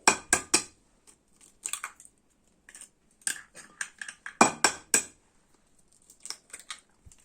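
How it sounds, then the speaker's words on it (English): Eggs cracked one by one into a bowl for a Christmas cake batter with brown sugar, heard as a series of sharp, close taps and clinks on the rim, bursts spaced irregularly with quiet gaps between. "I'm just going to crack up my 4 eggs as well"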